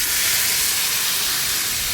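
Water hits a hot pan of stuffed bitter gourd masala and sets off a loud, even hissing sizzle that holds steady for about two seconds.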